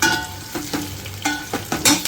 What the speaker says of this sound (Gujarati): એટલે વ્યવસ્થિત રીતે આમ હલાવવાનું